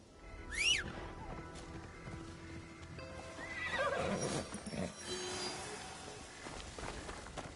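A horse in the video game Assassin's Creed Shadows gives a sharp whinny early on, then another rising neigh mid-clip, over a soft ambient backdrop with faint hoof clip-clop.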